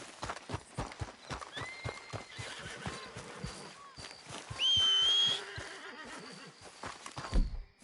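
Horse hooves clip-clop steadily at a walk in Red Dead Redemption 2, with a loud, sustained whinny midway and a few shorter neighs, heard up close alongside other game sounds.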